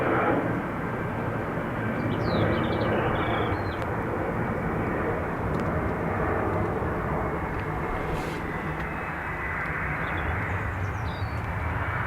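A plane on approach to land at Dublin Airport on a Sunday morning, its engines a steady, broad roar that stays loud and constant throughout, with faint chirps drifting over the top.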